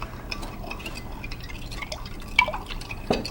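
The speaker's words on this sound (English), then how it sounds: "Stir it in." A packet mix stirred into a cup of water, with close liquid swishing, small drips and light clinks against the cup, moderately quiet over a faint background hum.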